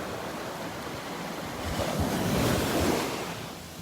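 Waves wash onto the shore of a North Naples, Florida beach, a continuous hiss that builds to a fuller surge midway before easing off, mixed with some wind noise on the microphone and no talking.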